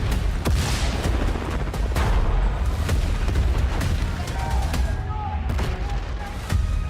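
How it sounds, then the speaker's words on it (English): Dense gunfire and booming blasts from the Battlefield 6 video game trailer, set in city streets of Cairo, with sharp repeated cracks over a loud continuous roar of battle and a voice talking through it. "Returning gunfire in the streets of Cairo"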